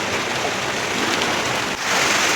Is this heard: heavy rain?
yes